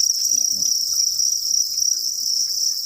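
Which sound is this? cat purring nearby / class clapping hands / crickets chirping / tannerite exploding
crickets chirping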